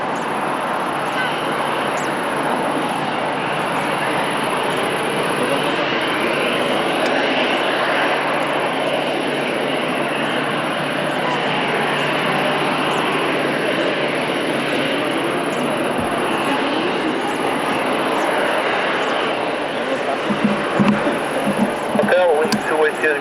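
An Airbus A320-200 jet airliner at Lisbon Airport, a loud sustained engine roar holding steady throughout, growing rougher toward the end.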